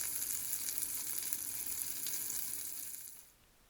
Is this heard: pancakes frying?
yes